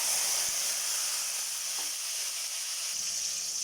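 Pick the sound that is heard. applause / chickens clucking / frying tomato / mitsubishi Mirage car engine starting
frying tomato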